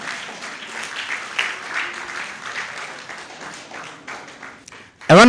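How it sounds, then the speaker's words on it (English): Audience applauding at a book review event, a sustained ripple of clapping that swells and fades, with a burst of louder sound at the very end. "A round of applause, a round of applause."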